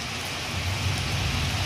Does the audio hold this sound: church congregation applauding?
no